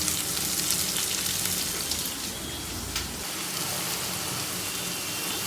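Onions and chillies frying in a pan for a pointed gourd and prawn dorma give a steady, dense crackling sizzle that continues evenly throughout, fairly close, with no talking.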